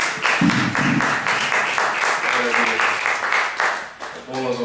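A church congregation at a missions service applauds, steady dense clapping with voices mixed in throughout and a brief dip near the end.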